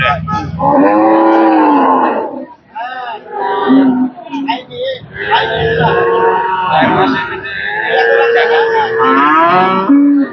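A pregnant dairy cow on a farm moos repeatedly in long, loud, wavering calls, close to the microphone, filling nearly the whole stretch with only brief pauses between bellows.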